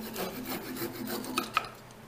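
A hand coping saw cuts through dried cholla cactus wood, making a few soft, rhythmic rasping strokes that end with two sharp little clicks.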